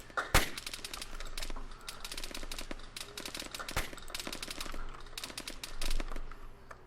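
Rapid rifle fire in the military shooter Arma 3 cracks out in dense, irregular bursts, sharp and close, with a few louder isolated shots standing out amid the steady rattle.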